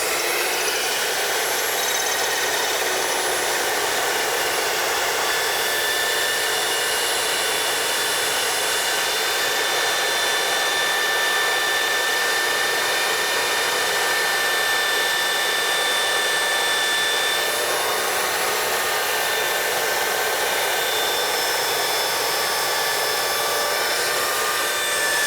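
A metal band saw cuts through 1-inch square steel tube, a steady, bright hissing whine with high ringing tones that holds evenly for about 25 seconds, close and loud with no talk.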